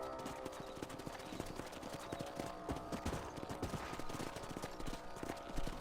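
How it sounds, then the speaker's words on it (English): Horse hooves clatter in a quick, continuous clip-clop rhythm while riding across a ranch property in the Red Dead Redemption video game, fairly faint with a soft outdoor bed beneath and no voices. "Let's mount up and patrol the rest of the property."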